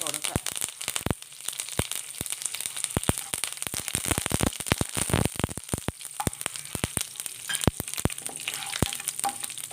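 Curry leaves and urad dal crackle and spit in hot oil, dense sharp pops over a steady sizzle, close and fairly loud throughout, with a voice talking faintly in places.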